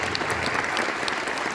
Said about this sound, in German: Also vielleicht mal einen kleinen Applaus und einen großen für die.